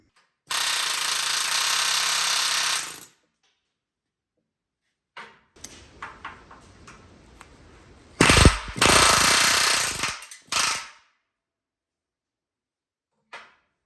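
Pneumatic rivet hammer setting hot rivets on a truck frame cross member, a loud sustained rattling burst near the start, then lighter tapping and two more heavy hammering bursts, with no talk.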